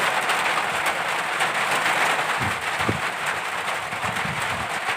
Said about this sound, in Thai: ฝนตกพอดีเลยออกมาทุ่งนาเนาะ